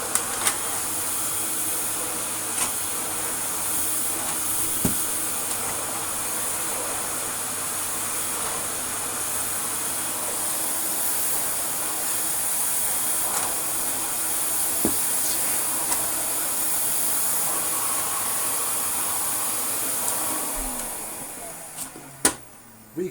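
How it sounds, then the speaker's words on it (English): A refurbished Hoover Compact Electronic S3462 vacuum cleaner with a contour floor head runs with a steady, loud whooshing hiss that holds for about twenty seconds, then winds down, followed by a couple of clicks. "a vacuum cleaner that has a couple of buttons and that is it. I mean, it works very well."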